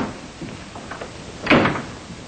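A door opens in an old-time radio comedy, a short creak and bump standing out clearly after a stretch of quiet room tone.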